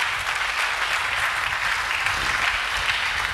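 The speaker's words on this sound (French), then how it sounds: "Est-ce que nous pouvons acclamer très fort?" A church congregation applauds loudly during a Sunday sermon, a dense, steady wash of clapping that fills the whole stretch without pause.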